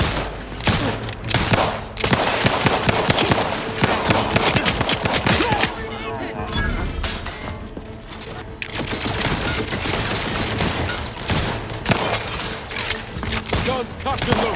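Dense automatic gunfire and rapid shots from a firefight in The Outer Worlds 2, loud and near, bursting almost continuously for the whole stretch with only brief lulls, some speech faintly mixed in.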